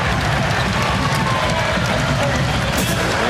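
Dense crowd roar and cheering fills a packed arena after Hawaii wins a point in a senior night volleyball match against UCSB, loud and sustained throughout with no pause.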